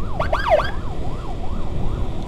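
An ambulance siren wails in a rising and falling pattern, fairly close, over a low rumble of road traffic, on a road in need of repair from Kawalu toward Leuwisari, Indonesia.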